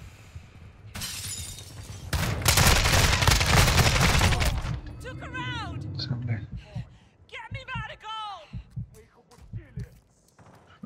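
Gunfire in Call of Duty Warzone 2.0 DMZ: a loud, dense burst of rapid automatic shots and cracks lasting a few seconds, then players' voices talking over scattered quieter shots.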